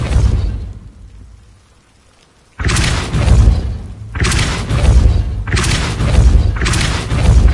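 The Depulso spell in Hogwarts Legacy fires as heavy booming blasts. After a quiet pause come four loud, broad thumps, evenly spaced and close.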